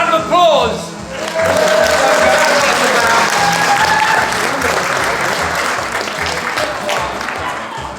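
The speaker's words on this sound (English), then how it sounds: "Big round of applause." Audience applause at Play Expo 2024, loud sustained clapping and crowd noise following a brief voice, gradually easing off.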